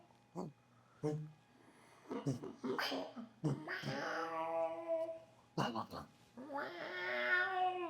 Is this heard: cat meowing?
yes